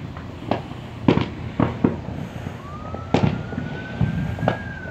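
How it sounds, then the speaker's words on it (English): Fireworks and firecrackers going off at a Fourth of July gathering, a string of sharp cracking bangs at irregular intervals, some near and loud, with a faint distant whistle rising through the middle. "I have been lighting a lot of fireworks everywhere."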